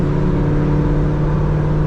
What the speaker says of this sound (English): This Corsa just barks,